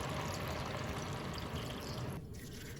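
Water pouring steadily into a pot holding tonjiru stew ingredients such as konjac, a soft continuous splashing stream that eases off slightly toward the end.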